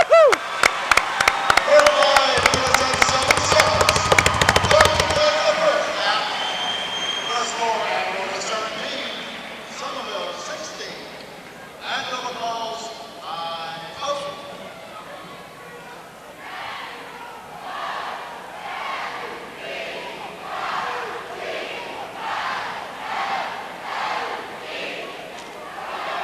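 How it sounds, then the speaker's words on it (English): Somerville fans cheer at a high school girls' basketball game in a gym, with rapid rhythmic clapping and chanting at first, then a looser roar of crowd noise while announcers talk over it. "the Somerville fan showing everybody else how you cheer a team on"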